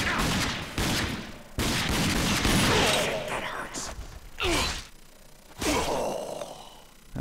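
Enemy gunfire in the shooter game RAGE, loud bursts of shots in dense clusters with short gaps between them, mixed with game effects and a man's brief gasps.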